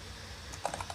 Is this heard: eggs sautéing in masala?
no